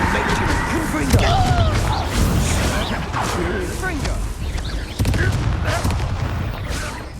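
Confringo fire spell cast in the video game Hogwarts Legacy, fiery bursts and booms amid a chaotic battle, with whooshes and sharp impacts over continuous dense noise, while voices shout and talk throughout.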